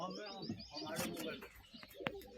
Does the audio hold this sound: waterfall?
no